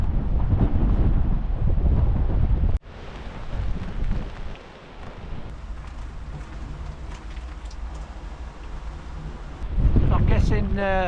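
Strong wind gusts buffet the microphone on the exposed southwest coast of Tiree, a Scottish island, as a steady loud rushing roar broken by a sharp knock, with someone speaking briefly at the start and near the end.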